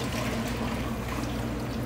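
Water pours steadily into a pot, a continuous close, loud splashing stream of six cups readied for poaching eggs, with no pauses over its short span.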